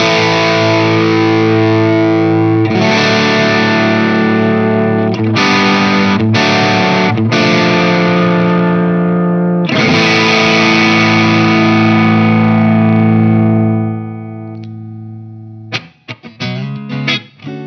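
Electric guitar played through a Dr Z Maz amplifier rings out in loud, sustained distorted chords that change every few seconds, then ends in choppy, muted strums and short stabs.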